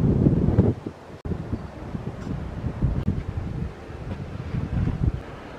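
Heavy wind buffets the microphone in low, rumbling gusts, with a brief lull in the middle before the roaring returns.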